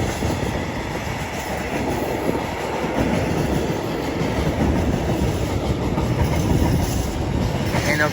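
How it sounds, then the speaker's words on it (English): Great Western Railway class 802 unit 802-114, the 10:53 London Paddington to Cardiff Central service, arriving at Didcot Parkway on the Great Western Main Line; a loud, close, continuous rumble with rail clatter and no talk. "incoming now is the 1053 Great Western Railway service from London Paddington to Cardiff Central"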